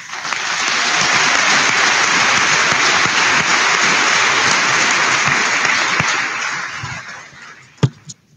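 An audience at the 2018 Elkhorn South high school graduation bursts into sustained applause for the seniors, dense clapping swelling quickly, holding for several seconds, then fading with a sharp knock near the end.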